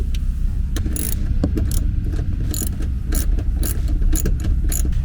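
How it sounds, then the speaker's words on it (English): Lug nuts being removed from the backseat mounting of a Honda CR-V with a ratchet, giving rapid repeated metallic clicking strokes close up over a steady mechanical background, no talking. "the last two lug nuts we need are right there"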